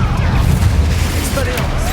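An Accio spell is cast in Hogwarts Legacy, a short, dense magical whoosh with a deep booming burst, loud and close amid game noise.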